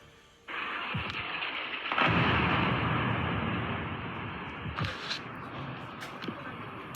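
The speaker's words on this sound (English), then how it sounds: "The sounds of explosions during those strikes." Explosions from Indian military strikes in Pakistan: a heavy blast swells into a long, rumbling roar, followed by a second thudding boom a few seconds later, with broad noise lingering throughout.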